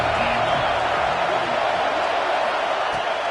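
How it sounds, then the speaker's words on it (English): Dense roar of a stadium crowd at a college football game, a steady wash of noise with broadcast commentary speaking over it. "This crowd ready to make its presence known."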